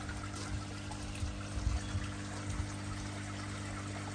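A shower line sprays water into a koi pond outdoors with fish swimming about: a soft, steady splashing trickle over a low constant pump hum, with a few slightly louder splashes partway through.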